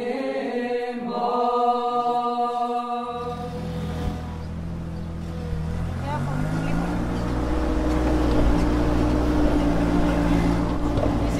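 A heavy tractor engine rumbles steadily and grows louder at an Orthodox monastery in Greece, its low drone taking over after a stretch of sung or chanted harmony at the start.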